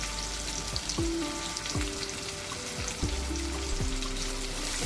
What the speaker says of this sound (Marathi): आता आपल्याला कांदा चांगला शिजवून घ्यायचा आहे